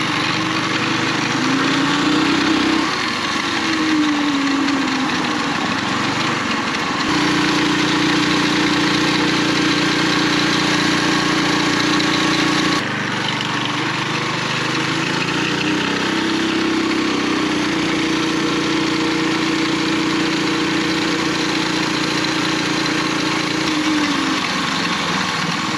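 A vehicle engine running through a torque converter stall test, a steady loud drone whose pitch rises and falls in long sweeps as revs climb toward stall speed and drop back, with no talk.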